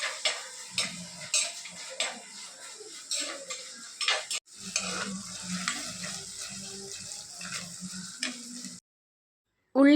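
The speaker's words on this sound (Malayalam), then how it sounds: "ചട്ടി ചൂടായപ്പോഴത്തേക്കും വെളിച്ചെണ്ണ ഒഴിച്ച് അതിലോട്ട് ഉള്ളിയും ഇഞ്ചിയും പച്ചമുളകും കറിവേപ്പിലൊക്കെ വഴറ്റാനിട്ടിട്ടുണ്ട്" Onion, ginger, green chilli and curry leaves sauté in coconut oil in a hot pan, with a low sizzle under irregular scrapes and clinks from a stirring spoon, ending in a short silence.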